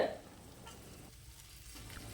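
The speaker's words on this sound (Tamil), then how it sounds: "இது சேர்த்துட்டு நல்லா கலந்து விடுங்க" Drumstick flowers sizzle steadily in a frying pan while a utensil stirs them, a soft continuous crackle throughout.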